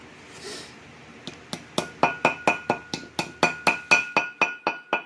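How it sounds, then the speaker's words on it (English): A hammer taps a wheel bearing seal into place on the front hub of a 1999 Ford Ranger 2wd, with about fifteen sharp, ringing metallic strikes in a steady, quickening rhythm, close and loud with no talk. "So we'll just take a hammer,"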